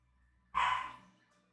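A dog gives one sharp, loud bark close by that trails off quickly against an otherwise quiet indoor background.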